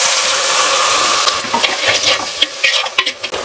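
Onions, green chillies and tomatoes frying in a pan for a home Pongal family meal, a steady loud sizzle that breaks into crackles and stirring scrapes toward the end, with no talk.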